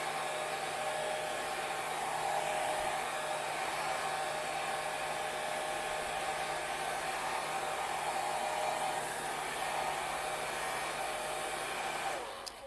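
A hair dryer drying ink on a painted white T-shirt, a loud, steady blowing whir with a constant motor hum that runs unbroken until a brief dip and click at the very end.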